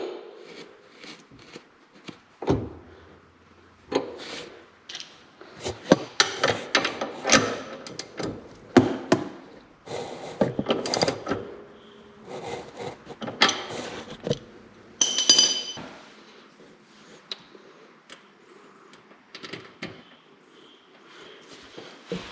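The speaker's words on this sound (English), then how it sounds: "17 millimeter nut. Tighten this down." A 17 millimetre nut is tightened on an EZGO golf cart front end, with scattered metallic clicks, clinks and ratcheting taps in irregular bursts close by and no talking.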